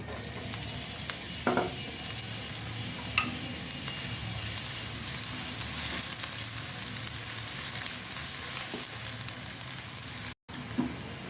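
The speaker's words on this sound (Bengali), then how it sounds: "পেঁয়াজ ভাজা হয়ে এসেছে" Chopped onions fry in soybean oil in a heated pan, giving a continuous hissing sizzle with occasional stirring scrapes and pops, close and steady, with one very short break near the end.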